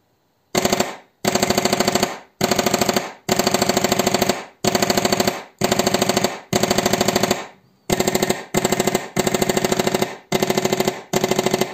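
An airsoft pistol fitted with an HPA module fires full auto at about 900 rounds per minute, loud close bursts of rapid rattling shots, about a dozen strings separated by brief pauses.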